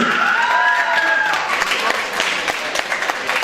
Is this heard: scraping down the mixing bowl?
no